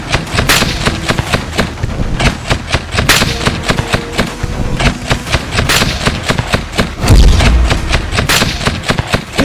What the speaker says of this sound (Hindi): यूक्रेन के कुछ फास्ट बोट ने रूस की नौसेना का ध्यान भटकाने के लिए करीब के इलाकों में गोलीबारी की